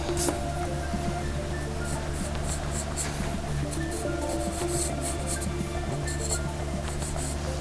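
Pencil drawing a circle on paper while sketching Shadow from Sonic, a steady close scratching and rubbing of graphite running continuously over a constant low background hum.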